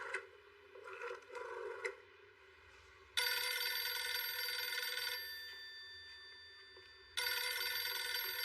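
An old-style telephone bell rings in two long bursts, loud and near, with a quiet stretch of muffled activity before the first ring and no talk over it.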